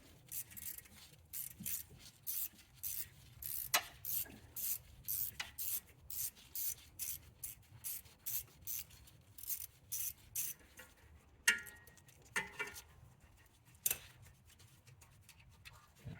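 A ratchet works a 10 mm bolt off the rear ABS speed sensor on a Chrysler 300, producing a quiet run of quick, close clicking bursts in a repeated back-and-forth rhythm.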